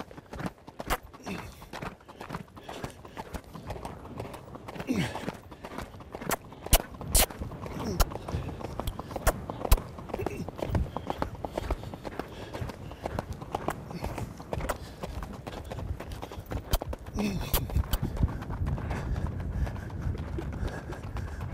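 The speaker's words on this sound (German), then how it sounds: "Ebenso gut gesprungener Galopp." An Icelandic horse galloping, its hoofbeats a continuous rhythmic drumming of clip-clop strikes close by, with outdoor noise and occasional voices in the background throughout.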